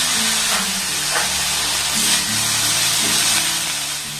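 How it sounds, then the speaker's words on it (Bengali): Potatoes and carrots fry in a pan over a low gas flame, giving a steady, close sizzling hiss that runs without a break, with no voices over it. "গ্যাসের ফ্লেমটাকে একদম লো রেখে এবার এগুলোকে একটু হালকা লাল লাল করে আমি ভেজে নেব"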